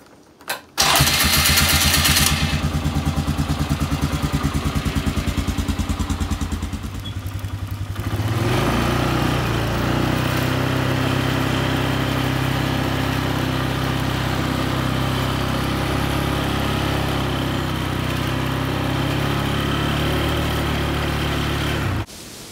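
An ATV engine cranks and starts on a snowy property, roaring loud and close, then settles into a steady, throaty idle with a low rumble that runs unbroken to the end.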